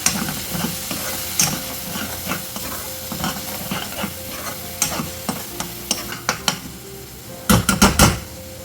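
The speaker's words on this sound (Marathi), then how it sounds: "आता हे देखील आपण चांगलं तेलावर परतून घेऊया" Tomato and coriander puree sautéing in oil in a pan for a paneer gravy, a steady sizzle with repeated spoon scrapes and stirring clinks, close and clear, ending in a burst of quick metallic scraping.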